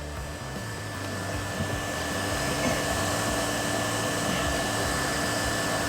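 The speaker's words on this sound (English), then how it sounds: "the face of the orbital sander has Velcro on it, and the furious vibrations basically embedded it into the carpet" An orbital sander with a Velcro face vibrates hard against carpet, producing a loud, steady, unbroken whirring drone throughout.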